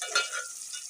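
Chicken balls fry lightly in hot oil, giving a soft, steady sizzle with a brief stirring scrape near the start, close and fairly quiet with no voices.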